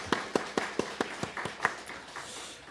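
Congregation clapping during a Sunday worship service, a handful of distinct rhythmic claps standing out over a softer spread of hands, then thinning out toward the end.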